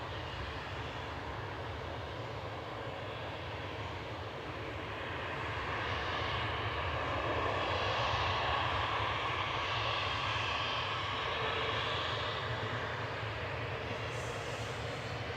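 SunExpress airliner arriving at Manchester Airport from Dalaman, its jet engines a broad, steady roar that swells toward the middle and stays loud, heard from a spotting position with no talk.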